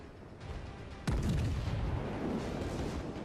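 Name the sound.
warship secondary guns firing, from video game World of Warships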